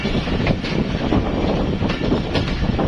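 A train at Gujranwala railway station in Pakistan, a steady loud rumble of rolling wagons with rattling, clattering wheels throughout, no voices.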